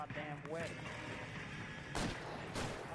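Gunshots in L.A. Noire during a foot chase, two sharp cracks near the end fired over background game ambience and music, with a voice speaking earlier.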